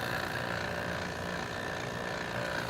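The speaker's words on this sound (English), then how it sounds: "Pulling a vacuum on it." A vacuum pump on mini split refrigerant lines in a garage drones steadily nearby, a constant motor hum with a faint buzzing tone and no speech.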